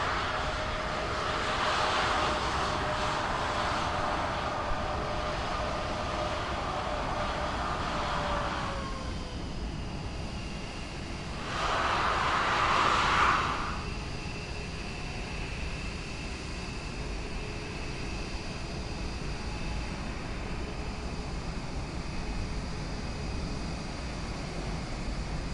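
A DHL cargo aircraft taxis at Lisbon airport in Microsoft Flight Simulator 2020, its engines giving a steady broad hum and whine that swells briefly partway through, with no talking.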